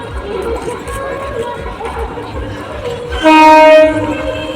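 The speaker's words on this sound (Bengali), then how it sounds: "ওদিকে ট্রেন আসছে, এদিকে ট্রেন আসছে।" A train pulls into a station, its rumble and rattle rolling steadily before a loud horn blast sounds near the end, with people's voices faintly present in the background.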